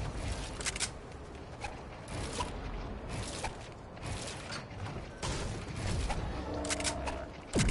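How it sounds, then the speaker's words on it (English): Gunfire in a video game, with bursts of sharp shots and clattering mechanical clicks scattered across the stretch, some shots close together, over a busy background of game noise. "And this guy's fucking shooting at me now."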